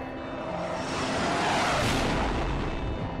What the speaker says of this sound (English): That was a fucking jet.